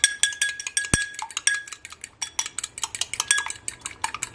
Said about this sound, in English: I do have an egg white here. I'm just gonna beat it a little bit